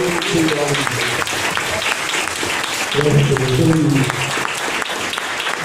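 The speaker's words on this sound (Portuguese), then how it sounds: "Vamos louvar Deus com as palmas." A church congregation at a cathedral anniversary service claps in praise, steady and loud throughout, with voices singing or calling out over the clapping in two stretches.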